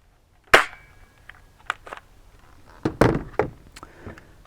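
A replica prop automatic rifle firing with a sharp, close cap-gun crack, followed by several lighter mechanical clacks and thunks, then a second burst of loud snaps, with no talking.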